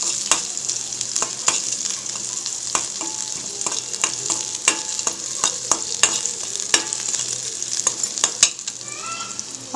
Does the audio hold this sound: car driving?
no